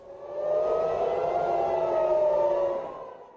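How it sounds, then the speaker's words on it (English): Civil defense air raid siren in an Israeli city such as Tel Aviv, warning of incoming Iranian missiles, a steady wailing tone that rises, holds and fades over a few seconds, heard from a distance. "While in Israeli cities like Tel Aviv, sirens warn of a barrage of incoming Iranian missiles"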